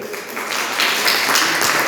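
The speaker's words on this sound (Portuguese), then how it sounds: "Dá salva de palmas para ele." A church congregation claps for their pastor, a dense, fairly loud round of applause that swells slightly midway and continues without pause.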